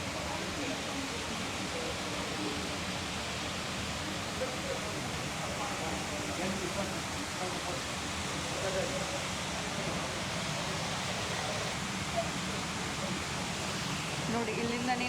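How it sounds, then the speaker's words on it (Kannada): Hot spring water flows at the Roman Baths in Bath, a faint, steady wash of rushing water under a hollow ambient hum. "ನೋಡಿ ಇಲ್ಲಿಂದನೇ ನೀರು ಉತ್ಪತ್ತಿ ಆಗೋದು."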